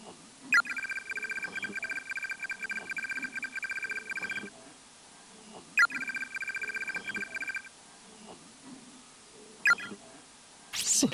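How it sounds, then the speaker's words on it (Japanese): A cell phone rings inside the horror video game Corpse Party, sounding as two bursts of steady electronic trilling separated by a quiet gap, with faint game ambience beneath. "篠原の携帯じゃないか。"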